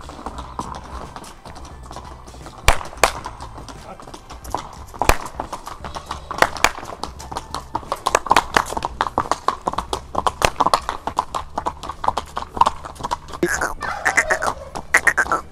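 Hooves of a tall Marwari mare clip-clopping on a Punjab stud farm, a steady run of sharp close knocks with faint farm fowl and animal sounds around them.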